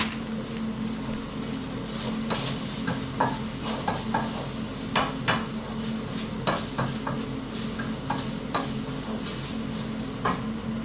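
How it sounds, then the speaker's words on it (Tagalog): Pasta carbonara is stirred in a frying pan at home, with a spoon clacking and scraping against the pan in an irregular rhythm over a low, steady sizzle, close up and without voices. "Niluluto ko lang ngayon ay pasta carbonara nga"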